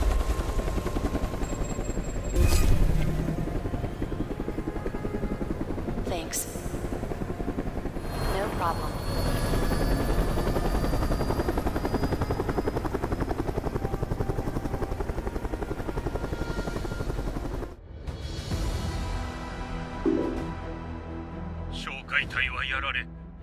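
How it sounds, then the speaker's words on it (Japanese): Engine roar of the Starlust ship approaching and landing in the video game Alienation: a loud, sustained helicopter-like drone with rising tonal whines and several heavier bursts, continuous from start to end. "スターラスト接近中動力着陸は問題なさそうだ"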